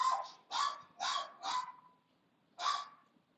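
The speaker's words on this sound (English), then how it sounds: "Sorry guys, my dog." A dog barks five times nearby at a moderate level, four quick barks in a row, then a pause before one more, in an otherwise quiet room.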